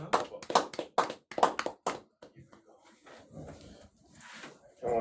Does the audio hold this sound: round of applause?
yes